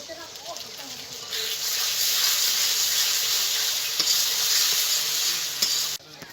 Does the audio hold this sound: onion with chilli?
yes